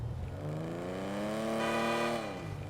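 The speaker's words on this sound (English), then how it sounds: "The car sounds kind of cool, looks kind of cool, because it's like an old school luxury car" Engine of an old-school luxury car in a video game revs steadily, its pitch climbing smoothly for about two seconds and then dropping back, loud and close with no talk over it.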